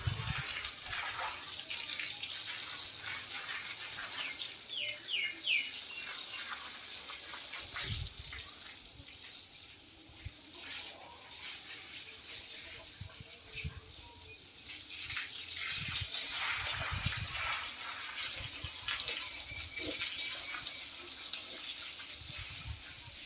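Water runs steadily from a tap while containers are filled during cleaning at a farm house, a continuous broadband rush with occasional knocks and splashes, fairly close and alone without talk.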